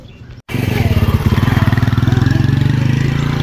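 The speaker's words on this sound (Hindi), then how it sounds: "मोटरसाइकिल हम अपनी बाहर खैर से लेके आ गए हैं।" A motorcycle in a Pakistani village starts up after a brief quiet gap and settles into a loud, close, steady chugging idle with an even pulsing beat.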